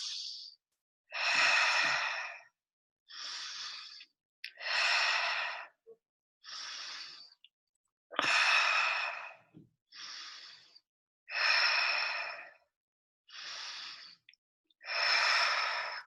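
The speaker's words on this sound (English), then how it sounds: "This is crucial in that first step as we pinch that first finger and we begin to breathe. So doing 5 breaths here." Slow, deep breaths during a calming breathing exercise: about five long, airy inhale-and-exhale cycles, each a few seconds long, close and clear with short silent pauses between them and no talking.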